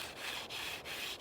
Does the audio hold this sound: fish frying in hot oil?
no